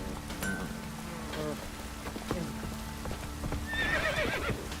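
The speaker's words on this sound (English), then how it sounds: "Horse!" A horse in the Witcher 3 video game clip-clops along with steady hoofbeats, then lets out a loud neigh near the end, over quiet in-game ambience.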